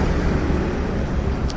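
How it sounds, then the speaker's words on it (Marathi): Road traffic rushes past as vehicles drive by, a loud steady broadband roar of engines and tyres heard continuously with no talking. "हे बघा गाड्या कशा धावत आहेत."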